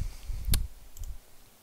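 Computer mouse clicks while working in a game map editor, two short sharp clicks, the first crisper and louder, over a quiet low hum.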